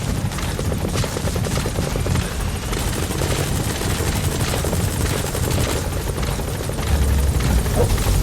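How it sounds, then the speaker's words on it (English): A support helicopter in Metal Gear Solid 5: The Phantom Pain gives a loud, steady rotor thrum with a dense, pulsing chop that fills the whole stretch without letting up. "Support helicopter has arrived."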